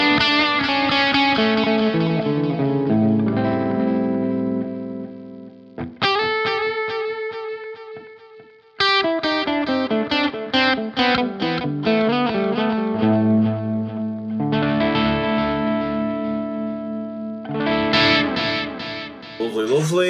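Electric guitar played through a Boss DD delay pedal with a touch of reverb, bright chords and picked notes ringing out with repeating echoes and lingering tails, loud and alone in separate phrases with brief pauses between.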